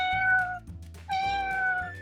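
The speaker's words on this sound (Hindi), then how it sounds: "अब आई ये बिल्ली।" A cat meows twice, clear, drawn-out tonal cries close by, the second louder and longer, over a quiet background of soft hum and faint thumps.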